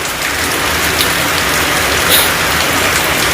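Heavy rain pours during a storm, a loud, dense and constant hiss of drops hammering nearby surfaces with no letup.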